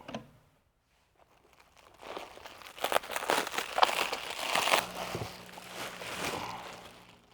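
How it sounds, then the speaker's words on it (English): Packaging tape is peeled off the top of a 12x12 egg incubator during unboxing, heard as a close crinkling, tearing rustle that swells after a quiet start and continues in uneven bursts. "You'll want to remove that tape."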